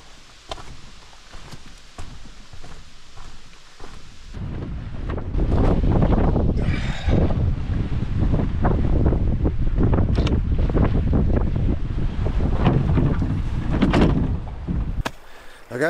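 Strong wind buffets the microphone in loud, rumbling gusts, with a steady roar broken by sharper blasts throughout.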